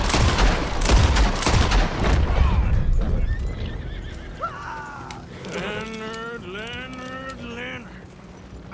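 Horse in the video game Red Dead Redemption 2 galloping with rapid hoofbeats, then slowing as it lets out loud whinnies and neighs in the second half, close and clear with a faint voice briefly over it.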